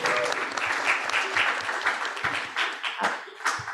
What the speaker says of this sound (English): but we could still give them a round of applause